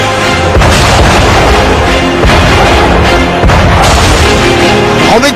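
An Indian-built howitzer fires shells at the border, with three or four loud, close booms each followed by a rolling echo.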